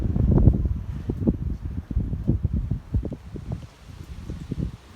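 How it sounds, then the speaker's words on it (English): A gust of Hurricane Eta's wind buffets the microphone outdoors, producing loud, rumbling low thumps and rushing surges that rise and fall irregularly. "Gust of wind just picked up a little bit."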